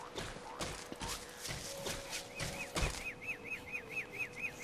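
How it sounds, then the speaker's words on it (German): Bird honking in the video game Don't Starve, a quick series of short repeated calls in the second half over game footsteps, thuds and ambient noise, moderately loud. "Vogel."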